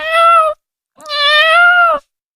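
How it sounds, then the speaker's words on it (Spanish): A frightened kitten lets out two long, loud meows, each about half a second to a second, with a brief silence between them and no other sound. "¡Anda! ¡Si es un gato!"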